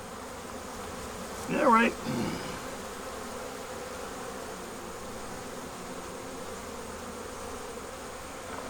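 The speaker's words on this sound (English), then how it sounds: "The only thing I seem to have are a lot of calm bees, and then again some provoked bees, but mostly calm." Honeybees hum in an opened hive during a queen install, a steady close buzz running throughout, with a brief spoken remark near the start.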